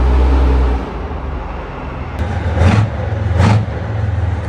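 A T-72 tank driving into a WWII hangar, a loud, close engine rumble that surges twice as it revs, with no talking.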